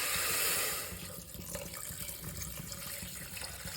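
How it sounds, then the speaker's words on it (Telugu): Water pours from a glass into a pot of cleaned mutton bones for soup, a steady close splashing stream that starts louder and settles into an even gush. "ఇప్పుడు 2 గ్లాసులు వాటర్ పోసుకుందండి"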